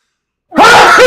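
A single sudden, loud sneeze bursts out close up after a moment of silence.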